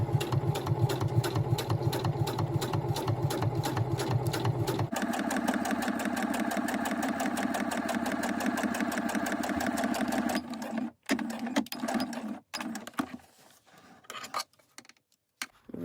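A sewing machine stitches through paper envelopes with a fast steady whirring hum. It runs for about ten seconds, then breaks into short stops and starts before going quiet.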